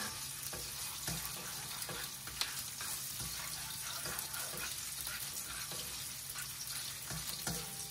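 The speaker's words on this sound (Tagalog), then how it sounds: "Gigisa muna natin sa luya," Ginger, garlic and onion sautéing in a pan, a continuous low frying hiss broken by irregular light stirring taps, fairly faint and steady with no talk.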